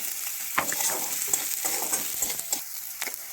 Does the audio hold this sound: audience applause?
no